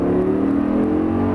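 A car engine revs steadily and strains under hard acceleration, a continuous close droning roar.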